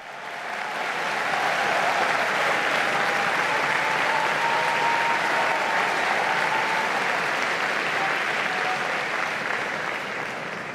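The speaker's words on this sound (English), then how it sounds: "And with that applause, we conclude this live broadcast of Pope Leo XIV's meeting with media professionals." Sustained applause from a large press audience at Pope Leo XIV's meeting with media professionals fills a big hall, dense and steady for about ten seconds before easing slightly at the end.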